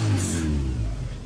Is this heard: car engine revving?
yes